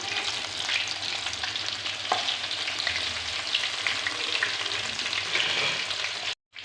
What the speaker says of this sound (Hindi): ऐसे कांटे से हम इसको हिला देंगे